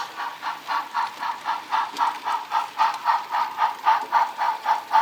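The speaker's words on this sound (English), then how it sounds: "This is actually an empty coal train coming down from Buffalo." An empty coal train runs on a model railroad layout, its wheels clicking in a steady, evenly spaced rhythm at close range with no talking.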